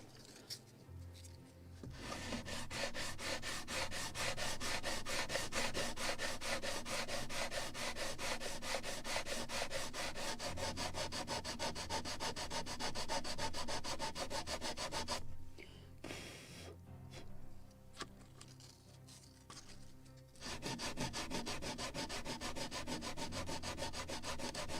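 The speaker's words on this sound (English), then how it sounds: "Still a little more of sanding." Steady, continuous abrasive rubbing of sandpaper by hand on the wooden hull of a model gunboat, close and fairly loud, with a brief pause and quieter strokes before the sanding resumes.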